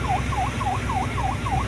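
Siren from a China Coast Guard ship at sea near Bajo de Masinloc, a steady, loud rising-and-falling wail repeating about every third of a second over a deep engine rumble.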